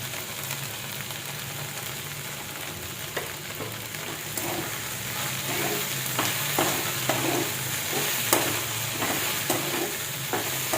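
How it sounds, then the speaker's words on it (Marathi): Cooked okra (bhindi) stir-fries with crushed peanuts in a pan, giving a continuous loud sizzle with scraping spatula strokes and scattered clicks throughout, no voices. "शेंगदाण्याचा कूट टाकून थोडंसं 1-2 सेकंद परतून घ्यायचं"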